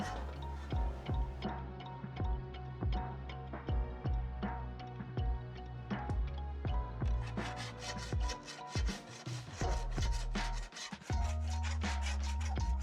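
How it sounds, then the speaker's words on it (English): Hand file rasping across a soaped aluminum headlight panel on a gullwing car build, with steady back-and-forth strokes in a regular rhythm, close and alone, growing denser and brighter toward the end. "Going to chuck on a little bit of soap and start filing."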